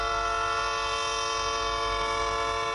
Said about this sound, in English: so many trains frequently block the intersection and blow their horns late at night